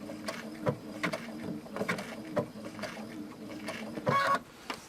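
A sewing machine stitching appliqué fabric runs steadily close by, with a fast mechanical patter and rhythmic ticks throughout, plus a brief louder whir near the end.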